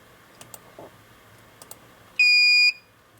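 A single loud, steady electronic beep lasting about half a second from a J1939 CAN bus simulator changing baud rate, after a few faint clicks in a quiet room.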